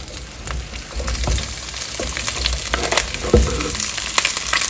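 Longaniza sausage frying in a little oil in a pot, with a steady close sizzle and crackle, scattered pops and faint stirring throughout, and no voices.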